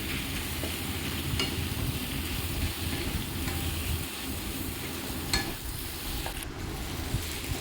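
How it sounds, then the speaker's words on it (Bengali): Pasta stirred in a pan with chopped onion, ginger, garlic and butter, a steady close sizzle with soft scraping and stirring throughout, no voices. "পাস্তাগুলোর সঙ্গে ভালোভাবে পেঁয়াজ, আদা, রসুন কুচি এবং বাটারটা ভালোভাবে মিশিয়ে নেবো।"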